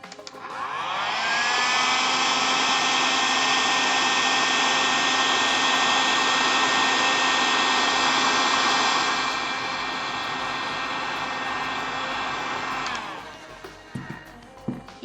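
A hair dryer blows over freshly inked lines on an ink artwork during an art demonstration, starting up after a second and running as a loud, steady whirring drone for about twelve seconds before cutting off, with no talking.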